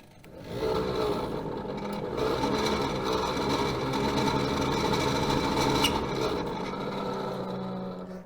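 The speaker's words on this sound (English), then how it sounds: "Doesn't sound beautifully, but it's at least working. So the heater is alive." Heater blower fan of a BMW E28 M5 running with a rough, rasping whir, steady and fairly close, with a faint scratchy rattle and a brief click near the end.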